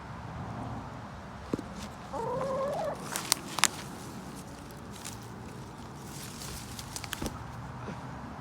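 A swamp fowl gobbles in a short burst of throaty calls amid faint rustling and scattered clicks and footsteps, with the outdoor background staying fairly quiet around it.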